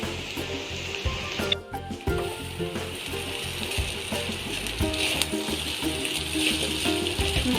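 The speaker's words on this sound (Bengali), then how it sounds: "ডিম আর আলুটা একসাথে ভাজা হয়ে গেছে, আর একটু ফ্রাই করতে হবে।" Vermicelli, egg and potato fry in a pan for upma, giving a steady, dense sizzle with scraping and clicking from stirring, close and continuous with no talking.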